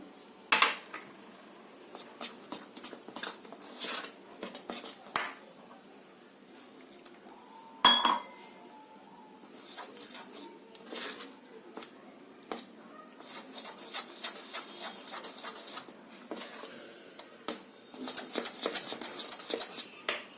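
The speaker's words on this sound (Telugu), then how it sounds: "ఉండలు లేకుండా బాగా కలుపుకోవాలి" A spoon beating chilli and gram flour batter in a bowl for stuffed bajji, heard as quick bursts of rhythmic scraping and clinking against the bowl with short pauses, fairly close and without voices.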